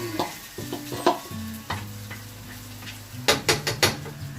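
Onions added to a pan for a shallot and mushroom rice dish, with a soft sizzle, spoon stirring and a few sharp utensil clinks against the pan near the end, close and without speech.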